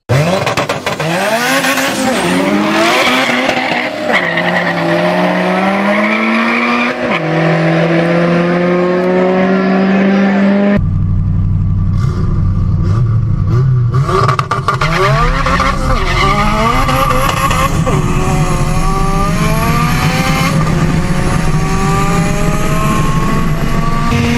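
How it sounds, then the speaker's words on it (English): A turbocharged Honda Civic and a nitrous-fed fourth-generation Chevrolet Camaro race, with loud rising engine wails, a shift, screeching tires and a sudden cut to another loud run with more revving and tire noise. "It is a Turbo Civic versus a nitrous 4th-gen Catfish Camaro."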